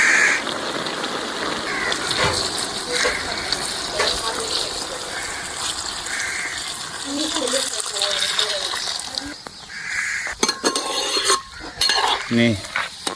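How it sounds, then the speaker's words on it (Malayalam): Beef cooks in water in a pot for a Kerala-style beef roast, with bubbling, sizzling and stirring sounds, some clinks and scrapes, and a voice talking intermittently over it. "നമ്മളെ ബീഫ് ഇതാ തിളച്ച് വരുന്നുണ്ട്"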